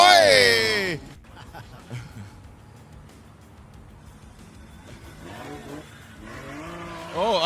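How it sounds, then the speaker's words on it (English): A drift car at a D1GP round in Malaysia hits its rev limiter on a wet track, with a harsh, buzzing engine note at the start and again at the end, and a commentator talking between them. "the second rear, hitting the limiter, keeps the angle, slowing it down"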